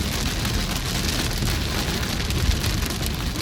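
Hail pounds on a car during a storm in Alberta, a dense, continuous roar of impacts drumming on the body and roof, loud and unbroken with no talking.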